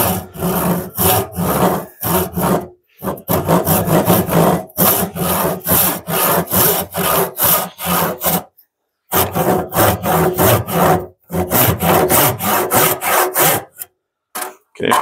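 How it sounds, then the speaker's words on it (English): A hand saw resaws a wood board in steady back-and-forth strokes, each a rasping cut close and loud, with a few brief pauses between runs and no talking. "Now I've never done any resawing before by hand."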